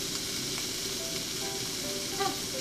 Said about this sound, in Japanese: 玉ねぎ炒めてる間に